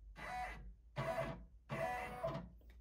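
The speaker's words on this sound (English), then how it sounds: "So I hit the trace button on my machine, and it'll trace how far out it's going to" An embroidery machine runs its trace function over a bunny-ear design, moving the hoop around the outline in three separate motorized whirring passes, each a few tenths of a second apart, quiet and close with no speech.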